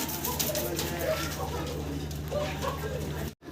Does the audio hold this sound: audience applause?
no